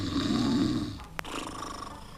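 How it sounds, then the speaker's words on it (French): An old, grumpy dog snores with a low, rough rumble that swells and then fades, followed by a brief click and a quieter, steady drone with no talking. "c'est lui qui ronfle"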